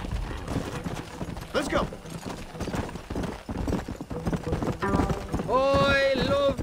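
A horse in Red Dead Redemption gallops under loud, overlapping speech and shouting, hoofbeats running through the clip before a burst of singing near the end.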